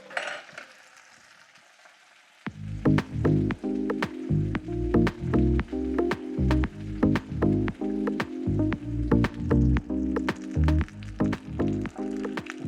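Pork schnitzel frying in a pan starts after about two seconds of near quiet, then carries on as a loud, close, crackling sizzle broken by repeated sharp clacks, with no voice.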